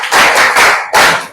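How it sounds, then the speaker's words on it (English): Students in a classroom clap together in a short, dense burst that swells, dips briefly and surges again before tapering off, close and fairly loud. "Give them a round of applause."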